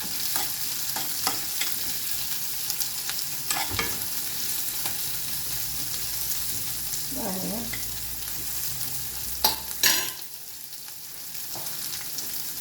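Garlic cloves and cashews frying on medium flame in a pan for a potato curry, a steady soft sizzle throughout with a few clinks of a spoon stirring against the metal.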